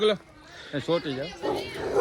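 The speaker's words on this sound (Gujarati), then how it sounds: "અમને આને આ કૂતરો બહુ ખવડે છે" Short yelping dog barks rise over people talking nearby, a few quick bursts mixed into the chatter.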